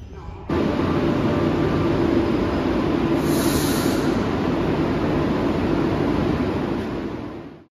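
Barcelona metro train running, a steady loud rumbling roar that starts abruptly and holds evenly, with a brief high screech partway through and fading at the end.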